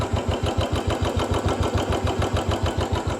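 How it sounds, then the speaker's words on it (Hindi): A Royal Enfield Standard motorcycle engine idles close by with a steady, rhythmic thumping beat and even loudness throughout. "साउंड चेक करो भाई इंजन की"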